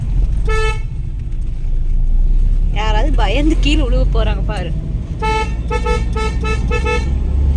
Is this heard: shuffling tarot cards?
no